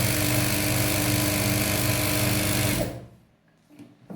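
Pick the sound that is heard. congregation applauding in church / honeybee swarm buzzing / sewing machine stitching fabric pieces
sewing machine stitching fabric pieces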